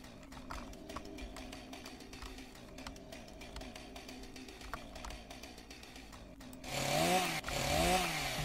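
Video game chainsaw revving steadily with a buzzing, rattling drone throughout, then surging louder with rising and falling whines near the end.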